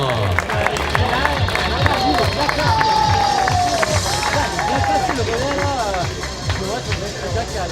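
A crowd at a triathlon long-distance awards ceremony applauds and cheers as veterans take the podium, a steady wash of clapping and voices with an announcer's amplified speech running over it.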